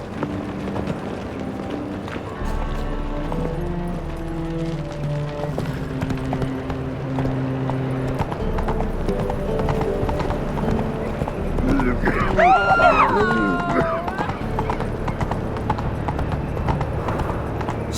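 Roach, the horse in The Witcher 3, gallops with steady hoofbeats running under continuous game music, with a brief whinny-like burst partway through.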